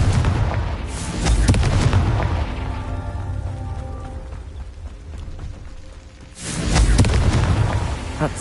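Fiery spell blast in Hogwarts Legacy: a deep booming explosion opens, rumbles and fades, then a second loud blast erupts near the end, both heavy and close with low, rolling tails.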